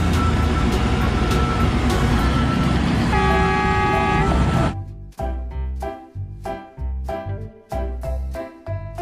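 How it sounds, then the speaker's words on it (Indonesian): A mining truck horn blares in one long, loud sustained toot for several seconds, then cuts off and gives way to rhythmic background music. "Truk tambang."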